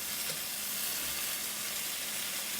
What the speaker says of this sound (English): While the tomatoes roasting.